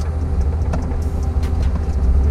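Rimac Nevera electric hypercar driving, heard from inside as a steady low road rumble with faint whine and a few light clicks, continuous and fairly loud with no talking.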